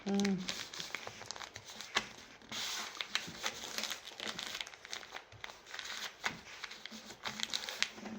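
Folded paper is crinkled and shaped by hand in making a hat block, giving close, continuous crackly crumpling and rustling with sharp crisp snaps, while a voice talks over it.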